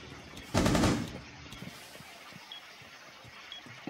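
One close, loud burst of automatic gunfire in Rainbow Six Siege lasts about half a second and then fades, leaving faint background noise and a few soft clicks.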